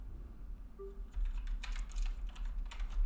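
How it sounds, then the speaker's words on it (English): Typing on an external computer keyboard, a steady run of close, crisp key clicks with faint background hum and no speech. "I will use my external keyboard."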